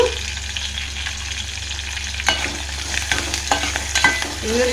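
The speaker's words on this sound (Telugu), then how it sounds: "కరివేపాకు వేసుకొని కలుపుకొని ఒక 2 మినిట్స్ మగ్గనిద్దాము" Curry leaves stirred into tomato masala dal in a pan, a steady low sizzle with a few sharp spoon scrapes against the metal toward the end.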